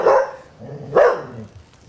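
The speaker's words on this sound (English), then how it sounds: "what are you barking at, man?" A dog barks twice indoors, close and loud, with each bark sharp and short and about a second apart, then quiet.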